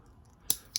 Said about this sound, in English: Our teeny tiny scissors. And just snip away at them.